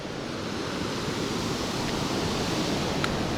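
Black Sea waves wash steadily onto the shore in a continuous broad roar of surf, mixed with wind buffeting, filling the whole clip without speech.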